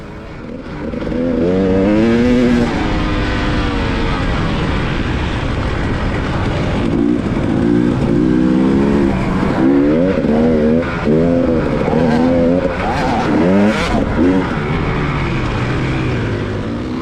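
A dirt bike passing during a hare scramble race, its engine loud and close, rising and falling in pitch as it revs through gears over a steady roar that lasts throughout, with no voices.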